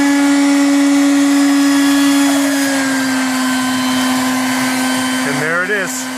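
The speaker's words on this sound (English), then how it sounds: "my vacuum sounds really, really high" A shop vacuum whines loudly and steadily at a high pitch as it pulls water through a frozen sump pump outlet pipe, and the tone wavers and shifts near the end as the flow breaks through.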